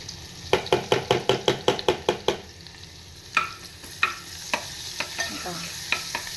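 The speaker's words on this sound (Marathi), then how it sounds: "कांदा छान असा ब्राऊन करून घ्यायचा, थोडासा खरपूस करायचा." Chopped onion stirred in a pan over a slow gas flame while it browns, with a quick run of about a dozen scraping stirs, then sparser clinks and scrapes over a soft, steady sizzle.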